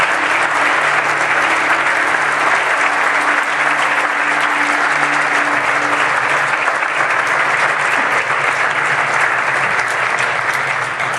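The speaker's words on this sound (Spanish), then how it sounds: "Den un aplauso al Señor." A church congregation applauds steadily during a Sunday worship service, a dense, loud wash of clapping that runs continuously without pause, with a faint low hum of sustained music beneath it.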